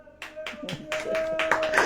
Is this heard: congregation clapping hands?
yes